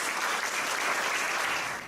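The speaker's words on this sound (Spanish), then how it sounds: "Dale fuerte el aplauso." Loud, dense applause from a crowd, steady clapping throughout the short stretch, tapering slightly at the end.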